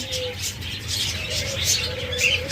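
Pet lovebirds and java sparrows chirp and tweet continuously in a bird-selling setup, a dense chorus of close, bright calls with a faint voice murmuring underneath.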